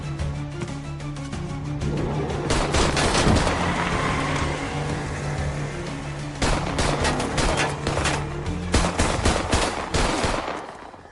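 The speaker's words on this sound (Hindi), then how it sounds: "बंदूक।" Gunfire in a Hindi-dubbed action crime film, with bursts of rapid machine-gun shots and scattered single shots. The fire is loud and sustained, dies down briefly, then returns in sharp repeated cracks.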